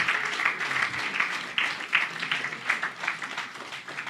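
Audience at a church service applauding and cheering for the mothers, a steady wash of clapping with bursts of cheers and whoops rising throughout, no distinct talk.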